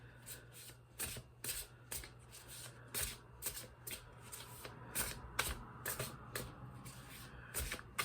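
Tarot-style cards shuffled during a card reading: quick crisp riffles and taps repeat in uneven bursts, close and fairly quiet over a low steady hum, with no talking.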